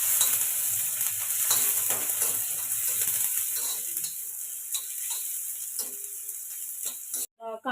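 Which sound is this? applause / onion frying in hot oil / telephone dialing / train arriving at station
onion frying in hot oil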